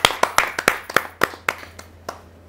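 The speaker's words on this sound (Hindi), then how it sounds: "आप जोरदार तालियों से स्वागत कीजिए महेंद्र मृदुल जी।" A small gathering at a Hindi poetry recital welcomes a poet with sparse, distinct hand claps, about a dozen in an uneven rhythm, close and fairly loud, fading out by the end.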